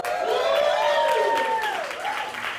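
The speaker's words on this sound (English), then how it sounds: "let's get a little round of applause going" An audience at an Ignite talk event breaks into a round of applause, steady and moderately loud, while a voice carries over the clapping.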